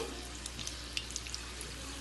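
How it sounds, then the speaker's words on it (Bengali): Singaras deep-frying in hot oil at a Bengali cooking show give a faint, steady hiss with scattered small crackles and pops, a quiet continuous sizzle with no talk over it. "সিঙ্গারা এখন আমরা ভাজা স্টার্ট করে দিয়েছি।"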